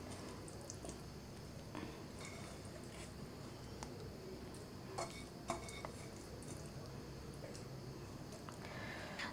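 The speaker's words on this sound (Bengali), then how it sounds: "তারপর পেঁয়াজ মরিচ আর তেলের যে মিশ্রণটা ছিল সেটার সাথে মিষ্টি কুমড়াকে খুব ভালোভাবে চটকে নিচ্ছি" Boiled pumpkin is squished and mashed by hand with onion, chili and mustard oil in a dish, making soft, wet squelches with occasional light clinks of the bowl, quiet and close.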